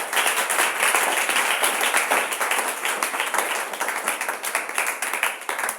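A church congregation applauding together during a Sunday thanksgiving service, a dense, sustained round of clapping from many hands that stays loud and close throughout.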